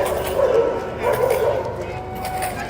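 Dogs kept by homeless people camped outside storefronts in Madison yip, whimper and bark in short bursts nearby, with a person talking over them.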